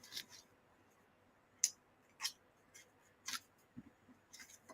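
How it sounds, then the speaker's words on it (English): Several crisp snips of scissors cutting stiff brushed gold metallic cardstock, spaced irregularly, quiet and close with faint background hiss. "I just go with my scissors once again"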